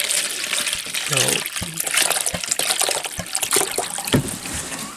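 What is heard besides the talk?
water pouring into electrolysis container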